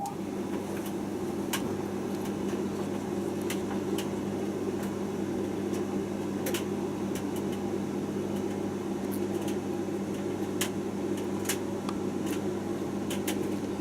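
An AEG T37700 sensor tumble dryer loaded with baby clothes runs with a quiet, steady mechanical hum and faint soft tumbling ticks, heard close up in a calm room.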